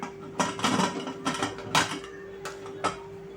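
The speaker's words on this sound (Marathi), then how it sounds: "आता आपण झाकण लावायचं आहे" A metal lid clatters onto a pot of boiling dal khichdi in a few separate clanks and scrapes, close by, with a faint steady hum underneath.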